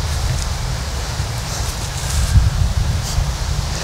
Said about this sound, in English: Yo, this is so windy.